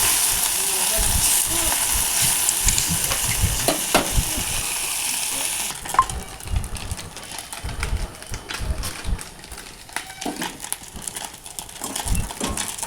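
Small morla fish frying in oil in a pan, a loud continuous sizzle with stirring clatter and scraping that grows more broken and uneven after the first half.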